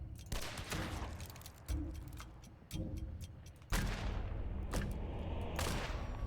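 Gunfire from the video game Two Point: Showdown, with bursts of sharp rapid shots over a dense continuous game soundscape, loud and close with no talking.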